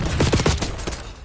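Frag grenade blast and gunfire in Black Ops 6 on Nuketown: a rapid burst of several sharp, loud shots and bangs packed close together, dense and continuous across the short stretch with no voices.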